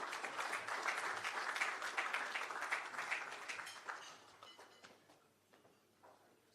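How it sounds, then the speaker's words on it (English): An audience applauding at a regional private-sector leadership breakfast: a steady wash of many hands clapping for a few seconds, then thinning out and fading to scattered claps. "Give them a round of applause,"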